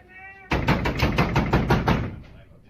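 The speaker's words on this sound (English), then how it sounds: "they just keep banging on the doors" People banging on a door, around eight rapid heavy thuds in an even rhythm, loud and close, with raised voices in the background.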